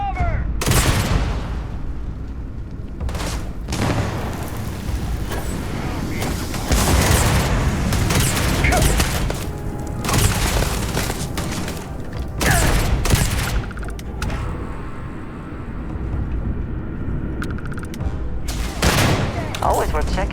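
A Starfield firefight against spacers near a governor's quarters: loud, repeated bursts of gunfire and booming impacts crowd the whole stretch, with voices shouting between volleys.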